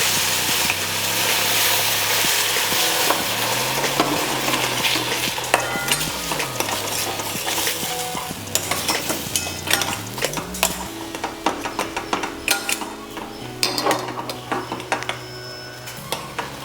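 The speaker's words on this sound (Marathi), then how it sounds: "आता आपण याच्यामध्ये हे गरम दूध घालणार आहे।" Hot milk going into semolina roasting in ghee for a banana sheera: a steady, loud sizzle with continuous stirring and spoon scraping against the pan throughout.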